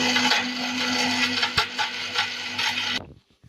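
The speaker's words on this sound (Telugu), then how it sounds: "మిల్క్ పోసుకున్నాక ఇప్పుడు మిక్సీ ఆన్ చేయాలి." A kitchen mixer grinder runs loud and steady, blending a protein juice with sugar and milk, its motor whine continuous for about three seconds before cutting off abruptly into silence.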